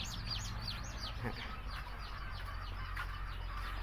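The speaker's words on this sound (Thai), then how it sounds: "ไก่เนื้อนะครับอายุ 3 สัปดาห์นะฮะ" Many three-week-old broiler chicks chirp and peep constantly in a busy flock, high-pitched calls overlapping over a low background hum.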